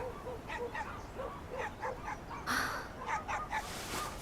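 A puppy under a month old, left abandoned, gives repeated short high whimpers and yips in a steady broken rhythm, fairly close, with a brief louder burst partway through.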